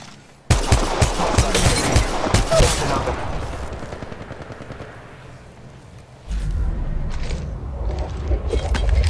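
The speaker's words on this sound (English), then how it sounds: "The enemies are shooting at me." Enemy gunfire in the mobile battle royale game Apex Legends Mobile, loud rapid bursts of automatic shots up close, easing off midway and then a second sustained volley of firing.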